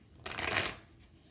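Tarot cards riffled in a quick, soft shuffle lasting about half a second during a pick-a-card love reading, close and fairly quiet, with no talking.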